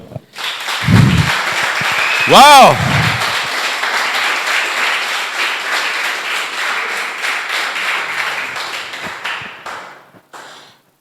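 A church congregation applauds in a sustained, dense round of clapping that slowly fades out, with a voice calling out briefly near the start.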